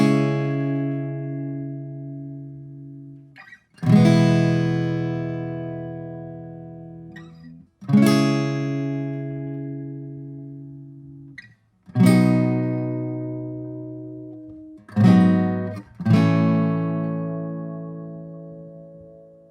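Acoustic guitar strumming the chords of a song, about five sustained chords, each struck and left to ring out slowly, close and alone with no talk.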